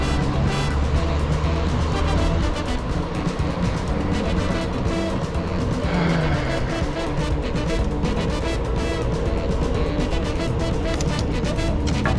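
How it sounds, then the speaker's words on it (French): Loud, continuous city traffic rumbling close by as a car passes, with dense engine and road noise filling the whole stretch and no clear pause. "C'est un bagnole."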